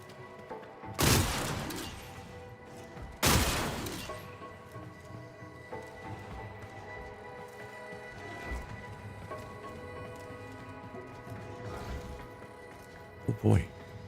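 Gunfire at decorative canisters in the game Warframe, two loud booming shots a couple of seconds apart, then quieter thuds and a final sharp pop, over a low humming game ambience.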